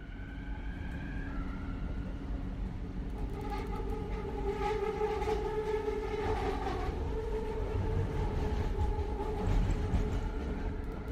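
A train rolls steadily along between stations, a continuous rumbling clatter of wheels on rails with tonal squeals and hums rising mid-way, carrying on alone without voices.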